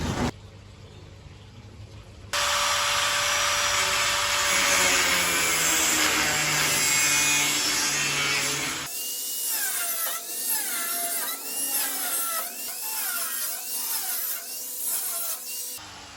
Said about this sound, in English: So I'm going to take the tote out and cut it with the angle grinder.